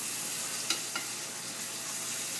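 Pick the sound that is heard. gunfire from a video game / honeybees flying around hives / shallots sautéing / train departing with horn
shallots sautéing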